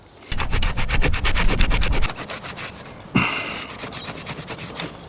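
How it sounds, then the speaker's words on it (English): A rag rubbed with light strokes along a bay window frame to wipe off bird droppings, a close, steady swishing friction sound in repeated passes with a short pause partway, no talking. "We'll just get a little rag, dab it on, and then we're just going to stroke it on really."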